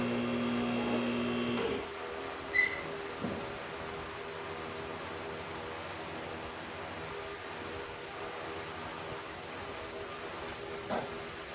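A big shop air compressor up on a mezzanine in a working garage hums steadily as a broad, distant drone, with a few faint knocks and clicks over it.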